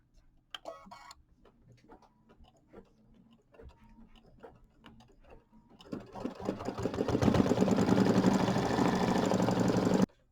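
An embroidery sewing machine stitching satin stitches for a Kimberbell mini quilt starts with faint ticks, then rises into a steady, loud, fast mechanical whirr for the last few seconds, close by, without talk.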